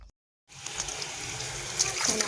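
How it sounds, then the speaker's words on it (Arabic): Fresh coriander and parsley rinsed under a running kitchen tap, a soft steady stream of water with faint splashes and trickles, starting after a brief silence. "نغسل القزبر والمعدنوس ونغسل هاد العجان والراس تاع الماكينه"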